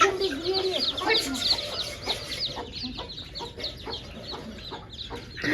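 Hens cluck repeatedly around newly hatched chicks in a rural farmyard, a busy run of close, overlapping clucks and chirps with some faint talk mixed in.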